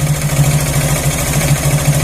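A motorcycle engine idles steadily with a fast, even mechanical pulse and light ticking while its carburetor air screw is tightened, a loud, close, unbroken run with no one speaking.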